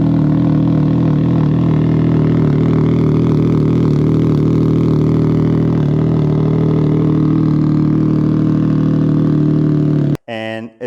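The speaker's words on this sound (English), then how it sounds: "This is the loudest exhaust you can get." A Can-Am Ryker fitted with a loud carbon series exhaust runs at a steady, deep, throaty rumble close by, holding level for about ten seconds before cutting off abruptly.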